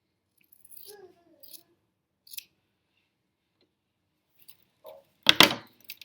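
Scissors make a few faint snips while trimming fabric bulk for quilt binding, followed by one louder, sharper cut near the end in an otherwise quiet room.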